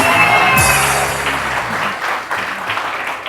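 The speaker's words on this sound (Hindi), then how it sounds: "और बहुत सारी तालियां फरा के लिए" Studio audience applause on a TV morning show, a loud continuous wash of clapping that gradually thins and softens over a few seconds.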